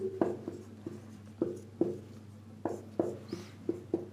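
Pen or marker strokes on paper while a maths problem on triangle area using Heron's formula is worked out, a series of short scratchy writing bursts at an irregular rhythm, close and fairly quiet over a steady low hum, with no talk.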